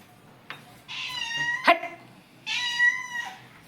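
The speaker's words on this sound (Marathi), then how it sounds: "घरात आली मांजर" A cat meows indoors in a house, first one drawn-out, clear meow, then a short knock, then a second long meow, each close and loud against a quiet room.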